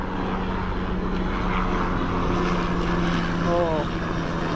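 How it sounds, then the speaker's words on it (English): A helicopter passes over a South Florida backyard garden, a steady low engine drone that stays loud and continuous throughout, with people talking nearby. "Oh, helicopter."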